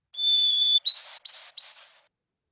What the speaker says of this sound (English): it's going to produce a very abnormal song that sounds like this